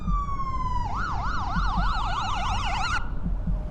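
An ambulance siren wails nearby, first a steady falling tone and then a fast rising-and-falling yelp that cuts off abruptly, over a low traffic rumble.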